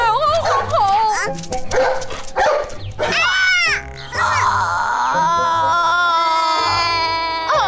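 A big dog barks and yelps repeatedly in a costume drama scene, the loud, close barks mixed with voices and other sounds throughout.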